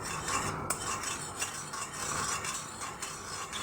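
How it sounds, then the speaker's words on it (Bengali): Butter heating in a kadai for carrot halwa, heard as close, steady scraping and clinking of a utensil stirring in the pan over a faint sizzle, with no talking. "এখন আমি কড়াইতে দিয়ে দেব একটু বাটার।"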